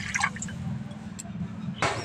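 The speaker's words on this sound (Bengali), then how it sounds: "কড়া দিয়ে দিচ্ছি জল।" Water is poured into a cooking pan (kadai) for a bean recipe. A brief liquid splash and trickle sounds up close over a low kitchen background, with speech present.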